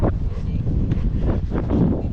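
A strong breeze rushes across the microphone outdoors, a constant heavy rumble with gusty swells, loud and unbroken from start to finish.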